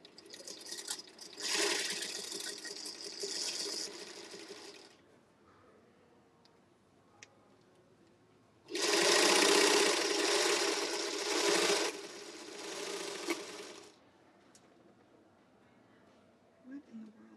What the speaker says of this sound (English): Not really sure what's going on with the sewing machines in here tonight